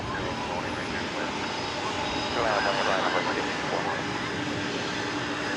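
Steady jet roar from a Boeing 787 Dreamliner airliner bound for Melbourne at DFW, loudest at mid-distance and swelling a little in the second half as the engine tone shifts.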